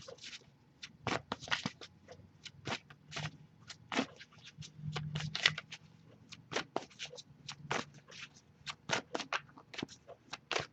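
Tarot cards being shuffled, a run of crisp riffling bursts and soft slaps coming in irregular clusters, close and fairly quiet, with no voice over them.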